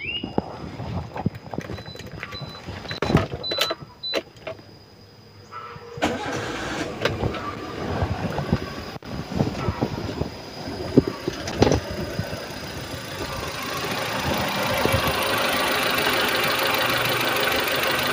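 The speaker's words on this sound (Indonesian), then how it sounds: "Dan sekarang kita coba nyalakan mesinnya, kita dengerin suaranya." A 2001 Suzuki Baleno engine cranks and catches after a few seconds of rattling, then settles into a steady idle that carries on to the end, heard close up with no talk.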